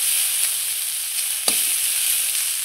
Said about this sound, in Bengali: আমার থোরটা খুব সুন্দর করে ভাজা হয়ে গেছে